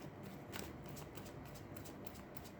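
Tarot cards get a final shuffle, a soft rapid riffling and rustling of the deck that runs steadily for a few seconds, close and quiet, with no talking.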